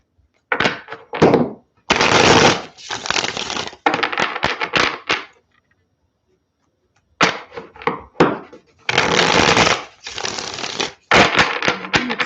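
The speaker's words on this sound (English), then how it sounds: "let's shuffle the deck" A deck of tarot cards being shuffled up close in several loud bursts of riffling and flapping, separated by short pauses and one longer silent gap.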